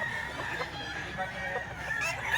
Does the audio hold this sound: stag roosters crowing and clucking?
yes